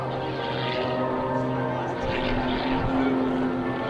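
Sean Tucker's aerobatic airplane performs at an air show, its propeller engine a steady, distant droning hum that swells slightly as it accelerates, heard alone without talk.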